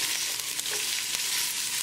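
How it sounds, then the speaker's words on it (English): Garlic and ginger frying in hot olive oil in a big pot, a loud, continuous sizzle with crackling close up and faint stirring, no voices. "As the oil starts to heat up, add garlic, add ginger,"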